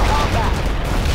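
Dense gunfire and explosions in the real-time strategy video game World in Conflict, a loud continuous barrage filling the short moment with no gaps.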